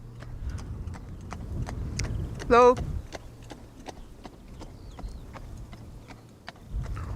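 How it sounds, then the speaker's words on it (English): Horse and carriage passing near a cycling path by Schiphol airport, hooves clacking in a steady rhythm of sharp, moderately close clops, with a brief vocal burst in the middle and a person saying a word. "Now you might also hear the clacking of hooves."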